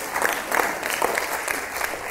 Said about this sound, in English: I'm clapping with you